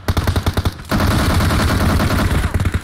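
Rapid gunfire from PUBG Mobile while shooting at an enemy: close, loud bursts of quick repeated shots, a short rhythmic volley first, then a dense sustained stream of fire to the end.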